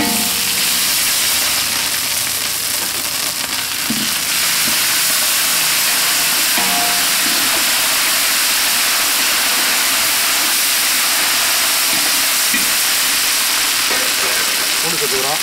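Ginger frying in oil in a pan for mutton biryani, a loud continuous hiss and sizzle with occasional faint knocks, close and steady throughout.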